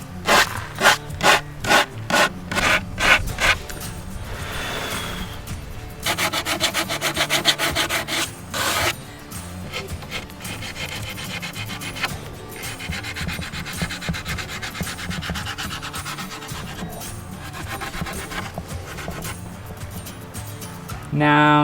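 Repeated hand rubbing and scraping of a random orbit sander disc against plywood, in short bursts then longer steady passes, close and fairly loud.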